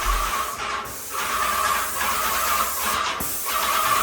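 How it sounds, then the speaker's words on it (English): Paint sprayer misting Sherwin-Williams ultra-white paint onto basement walls, a steady loud hiss broken by two brief pauses between passes, with a faint low hum underneath. "Using a paint sprayer is efficient and saves time with painting a basement."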